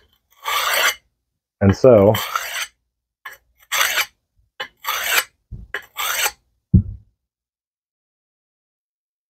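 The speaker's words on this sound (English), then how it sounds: "Knife sharpener is a knife sharpener." A knife is drawn through a knife sharpener in a series of short, loud rasping strokes, about six separate scrapes with pauses between them, up close with a brief spoken interjection.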